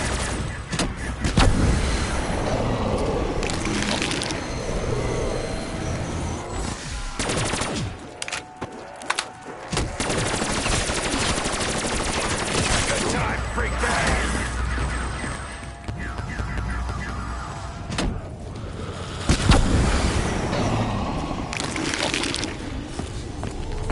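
Sustained automatic gunfire in a video game, with long continuous bursts of shots broken by brief pauses, steady and fairly loud for nearly the whole stretch.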